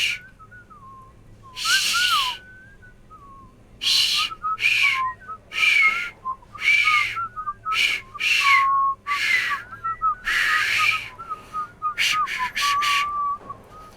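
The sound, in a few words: person whistling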